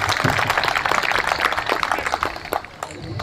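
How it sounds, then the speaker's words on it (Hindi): An audience at a cultural celebration and awards event applauds briskly for a few seconds, dense, close clapping that dips slightly near the end. "उनके लिए एक बार जोरदार तालियां बजाएं।"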